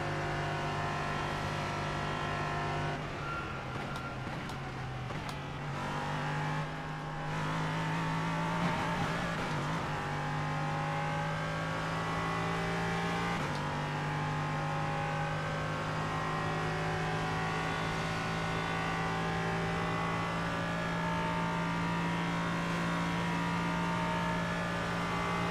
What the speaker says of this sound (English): The engine's loud still, okay.